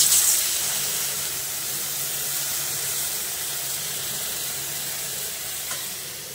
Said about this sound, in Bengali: আর এবারে দিয়ে দেবে ফুটিয়ে রাখা গরম জল।